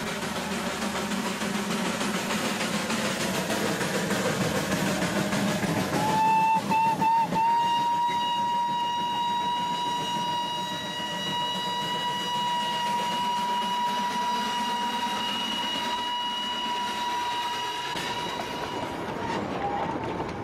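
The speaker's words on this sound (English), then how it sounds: "everyone along the way knows it's him by the sound of his whistle" A long, steady locomotive whistle on an Indian railway blows loud and sustained over the rumble of a moving train, cutting off shortly before the end.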